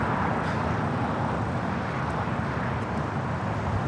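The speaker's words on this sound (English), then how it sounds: "This is All Nippon Airways Flight 126 coming in from Tokyo, Haneda on the 787-9 Dreamliner." An All Nippon Airways Boeing 787-9 Dreamliner arriving at LAX from Tokyo Haneda passes with a loud, steady broadband jet roar that stays close throughout, with some wind buffeting.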